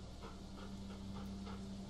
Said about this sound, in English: Oh, wait, is that somebody's dog?